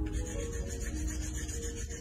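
Wooden rhythm sticks rubbed against each other in a steady, continuous scraping rasp lasting about two seconds, close and even in loudness, with no voices.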